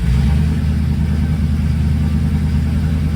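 A 1968 Mercury Cougar with a 390 V8, long-tube Hooker headers, pipes and muffler, running loud and close with a deep, throaty, steady rumble at idle.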